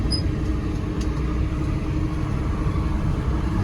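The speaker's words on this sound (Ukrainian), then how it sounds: "О, тут уже комбайн он пече повним ходом" A combine harvester running at full pace through a soybean field gives a steady, loud engine drone with a low rumble, heard continuously from fairly close and with no talking.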